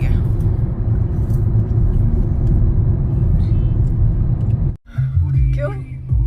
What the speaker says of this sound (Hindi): आज है भाई गुड़गांव में बहुत ज़्यादा जाम